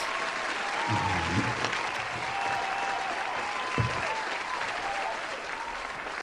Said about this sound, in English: Let me give you another round of applause.